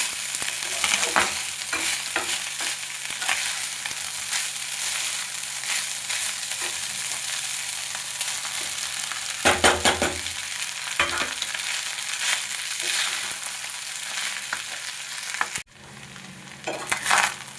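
Vegetables frying and being stirred in a pan for a quick breakfast or tiffin dish, a steady close sizzle with repeated scraping strokes of the spoon, continuing without any talk.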